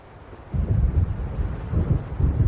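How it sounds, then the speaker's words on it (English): Storm building in Alan Wake, with a steady low roar of wind and rumbling thunder that swells suddenly after a quiet start and keeps surging and rolling, loud and close, with no voices. "It seems there's a storm coming."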